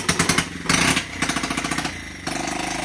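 A small unmuffled pit bike engine with no exhaust fitted, a Honda XR100 or Yamaha TTR90, blats and sputters loudly up close, rapid staccato pulses that rev up, drop, and rev again.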